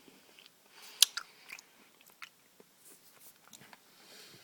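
A crunchy Clark candy bar with a caramel center being chewed close up, giving a few sharp bites and crackly crunches early on, then softer, scattered chewing sounds.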